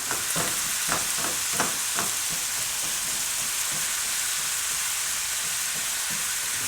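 Taco meat being stirred and chopped with seasoning in a hot frying pan: a constant close sizzle with a run of distinct scraping strokes in the first couple of seconds, and no voices.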